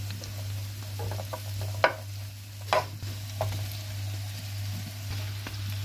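Leftover grilled chicken being stirred into pancit in a pan: soft scraping and clinking of a utensil with a few sharper knocks over a faint steady hum, no talking.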